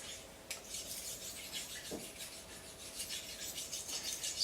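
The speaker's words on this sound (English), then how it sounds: "The key is keeping that maintenance up on the bench stone, keeping it rubbed back." A knife blade being rubbed back and forth across a bench sharpening stone, a steady, close, gritty scraping that continues with one brief louder scrape near the middle.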